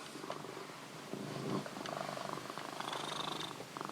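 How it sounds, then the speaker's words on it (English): A pet cat purring while standing on a person's lap, a soft continuous rhythmic purr close to the microphone with no talking. "my cat is standing on my lap"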